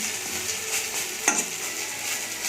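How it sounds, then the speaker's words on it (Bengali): Lentil fritters (bora) frying in a shallow layer of not-too-hot oil give off a steady, soft sizzle, close by, with one brief clink partway through. "অল্প অল্প করে বড়াগুলো ভাজবো"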